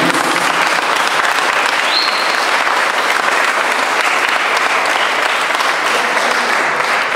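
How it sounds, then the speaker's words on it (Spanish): A church congregation at a Mass gives loud, sustained applause, a thick and unbroken roar of clapping from many people throughout, with no voices rising above it. "Damos un aplauso acá en línea"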